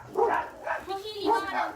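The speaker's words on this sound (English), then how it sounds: "the dogs are going crazy" Dogs bark in three quick bursts, moderately loud and slightly distant, during an outdoor Blackstone griddle cooking session.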